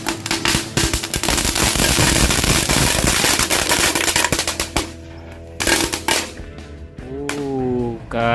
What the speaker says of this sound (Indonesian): itu dia hasil dari mercon telur dino